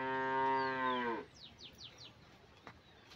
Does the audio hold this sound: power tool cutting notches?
no